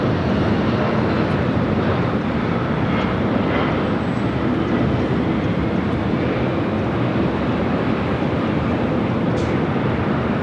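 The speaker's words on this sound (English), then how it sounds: "There is a 777 flying right next to me" A Boeing 777 airliner passing close by at Los Angeles International Airport, a steady, loud, broadband engine roar that holds evenly from start to finish with no voices over it.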